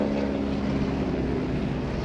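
A 600-horsepower airshow plane engine runs hard at high RPM, a loud, close, continuous droning roar with a steady throbbing tone.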